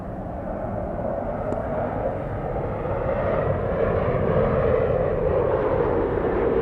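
A Singapore Airlines heavy jet departs Los Angeles International, its engines a broad, sustained roar heard from a distance that swells gradually louder toward the end.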